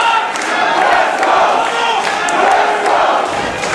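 Raucous crowd at a live wrestling match, a loud continuous roar of cheering and shouting that fills the whole moment without letting up.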